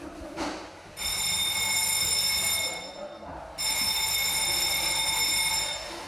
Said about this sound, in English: Imagine trying to sleep and having this constantly ringing.